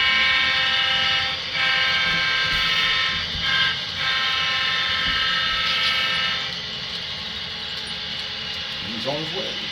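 An HO scale Santa Fe model train with EMD locomotives rumbles past with steady clattering and a tonal hum, nearby and continuous, with a brief whine near the end.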